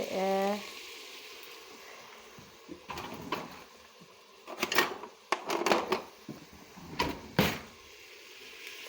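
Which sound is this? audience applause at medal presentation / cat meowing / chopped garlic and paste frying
chopped garlic and paste frying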